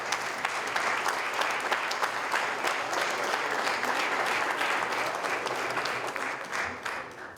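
A forum audience at a Venezuelan industry panel claps warmly to welcome a speaker, a loud, continuous burst of many hands that holds steady and then tapers off near the end.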